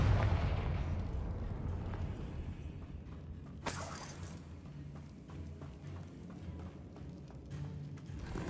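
A Confringo blasting spell fires in a video game, a sharp crack around the middle followed by a dense, rumbling burst of debris and a steady low drone of game ambience throughout.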